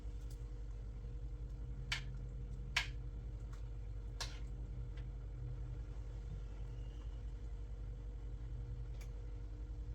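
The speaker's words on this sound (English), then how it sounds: "Someone's shooting a gun." Distant gunshots carry in through open windows, a few sharp faint cracks spaced apart over a steady low traffic rumble, with no talk.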